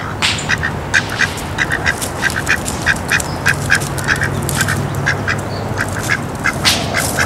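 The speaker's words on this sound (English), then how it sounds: "I am a male duck." A male duck quacks in a rapid series of short, nasal calls repeated rhythmically at close range, steady throughout with no talking.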